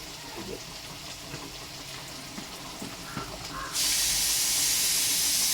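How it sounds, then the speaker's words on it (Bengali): Cumin seeds, about three spoonfuls, dropped into hot cooking oil, break into a sudden loud, steady hiss partway through, replacing quieter kitchen background noise. "আমি এখানে জিরে দিয়েছি বন্ধুরা, 3 চামচ মতন।"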